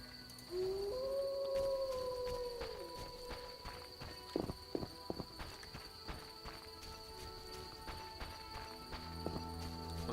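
Dogs howling in The Witcher video game, a drawn-out mournful howl early on, followed by scattered footsteps and hoof-like clops against a quiet ambient backdrop.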